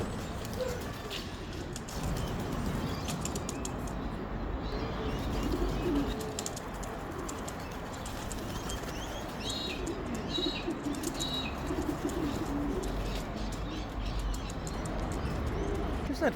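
Racing pigeons at a loft fill the air with low, soft cooing and rustling wing sounds, a steady murmuring bed of bird noise that continues throughout at moderate loudness.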